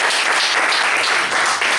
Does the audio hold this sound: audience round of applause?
yes